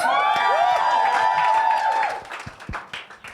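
Church congregation in Hyderabad cheering and applauding for the pastor: loud whoops and shouts over a burst of clapping that fades into scattered claps and voices.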